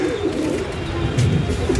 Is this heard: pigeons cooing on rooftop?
yes